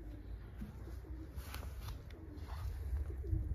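Racing pigeons coo softly and repeatedly in a loft, a low, steady murmur of several birds close by with faint rustling, no voices.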